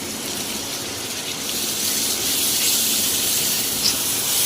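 Tomatoes dropped into onions frying in hot oil in a hostel kitchen pan for anda bhurji, a loud steady hiss of sizzling that builds and holds close up.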